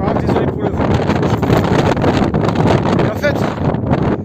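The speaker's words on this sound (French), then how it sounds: "je coupe parce qu'avec le vent, c'est une horreur" Strong outdoor wind buffets the microphone at a bushcraft campfire outing, a loud, continuous rumbling roar that masks everything, with a voice speaking beneath it.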